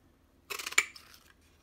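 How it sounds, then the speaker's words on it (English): Scissors snip a piece of card in a single quick, close cut, a short crisp rustle ending in a sharp click. "So let's just snip a piece off here."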